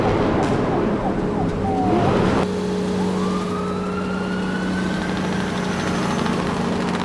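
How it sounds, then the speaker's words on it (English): A toy police car siren wails in rising and falling sweeps over a steady motor hum, fairly loud and close. "Police car."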